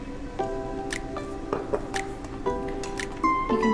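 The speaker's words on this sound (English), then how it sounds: "Once you start pouring it onto the cocktail, just pour it kind of slowly and on the side." Modelo beer poured slowly down the side of a glass into a mole cocktail, foaming as it goes: close, wet dripping and squishing with irregular small splashes.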